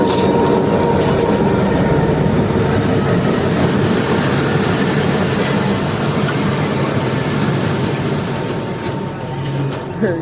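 A DMU passenger train at Tando Jam railway station in Pakistan gives a loud, continuous rumble with a steady engine drone, close by, faintly easing off near the end.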